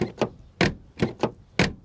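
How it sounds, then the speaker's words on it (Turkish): Door lock latches on a 2000s BMW X5 E53 with a 3.0 diesel engine, a quick series of about six sharp clicks and clunks, close and crisp. "Kilitler ne kadar güzel değil mi? tıp diye tutuyor hemen."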